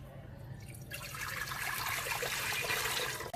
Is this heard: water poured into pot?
yes